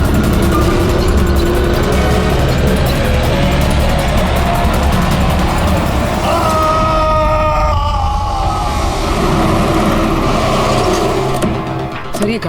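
A car pulls up at a warehouse: a steady, loud engine and road rumble throughout, with a brief high brake squeal midway as it comes to a stop.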